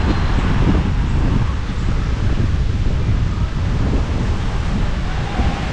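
Strong wind buffets the microphone outdoors at the Tagaytay Picnic Grove, a loud, continuous low rumbling roar with gusty swells and no clear pauses.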